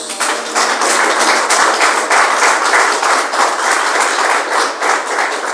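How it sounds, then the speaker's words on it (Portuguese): Church congregation clapping for Jesus at the end of a prayer, loud dense rhythmic applause sustained throughout, with many hands beating in a roughly steady pulse and no voices on top. "Palmas para Jesus."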